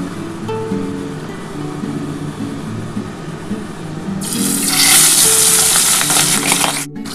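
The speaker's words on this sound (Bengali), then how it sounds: "এবার এগুলো ভেজে নিচ্ছি বন্ধুরা।" Pabda fish coated in mustard oil being fried, a low sizzle with scraping that swells into a bright, loud hiss a few seconds in as pieces hit the hot oil, close with no speech.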